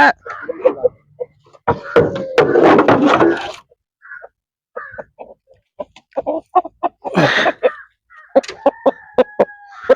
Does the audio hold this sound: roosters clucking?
yes